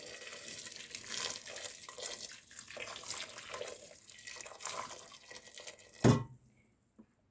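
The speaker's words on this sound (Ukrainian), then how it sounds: "Далі ми заливаємо їх кипяченою водою." Boiled water pours and splashes steadily over cleaned squid in a container, followed by a brief louder gush, then near silence.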